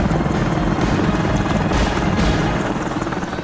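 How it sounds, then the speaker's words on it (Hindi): Apache attack helicopter in flight, a steady, loud rotor roar with continuous low thumping that fills the whole clip without pause. "वायुसेना के सभी 22 अपाचे हेलीकॉप्टर्स की डिलीवरी पूरी कर दी है।"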